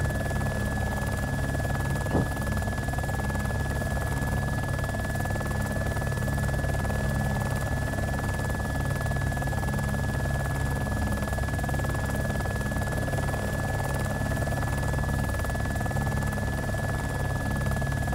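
A helicopter flies in the survival video game DayZ Origins, its loud, steady rotor and engine drone filling the cabin continuously with a constant whine above it and no speech.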